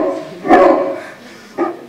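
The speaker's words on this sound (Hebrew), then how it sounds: "נדמה לי ששמעתי כלב נובח" A dog barks a few times off to one side during a stage comedy about a miser, two short bursts spaced apart, moderately loud, with no talk over them.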